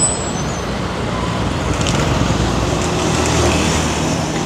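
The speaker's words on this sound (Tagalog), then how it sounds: "grabe yung mga motor talaga dito" Steady street traffic in Thailand with motorbikes, a continuous dense roar of engines passing close by near a night market crossing, loud and unbroken with no clear talk.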